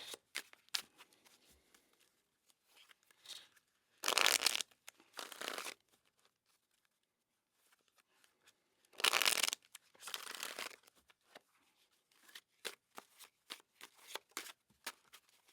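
Tarot cards being shuffled by hand in two loud bursts of riffling, separated by quieter intermittent taps and slides of the cards, with no talking.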